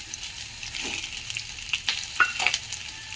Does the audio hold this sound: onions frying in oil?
yes